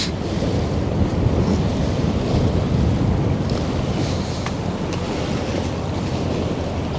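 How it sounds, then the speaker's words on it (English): Strong wind roaring steadily across open water beside a large ship on the Westerschelde in the Netherlands, a dense continuous rush with surf and buffeting on the microphone, no speech. "look at the wind hitting it sideways now"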